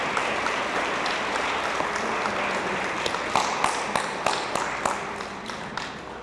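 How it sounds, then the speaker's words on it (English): Banquet guests at a veterans' anniversary dinner give a sustained round of applause, a dense wash of many hands clapping that grows slightly sharper partway through, heard from within the room. "let's give them a big round of applause"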